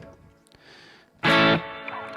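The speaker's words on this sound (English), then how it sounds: "I've just stuck in a hall reverb, got a long trail on it." Electric guitar played through a BOSS GT-1000 multi-effects unit with a hall reverb: a quiet, sparse passage leads to one loud, bright strummed chord that rings out and decays into a long reverberant trail.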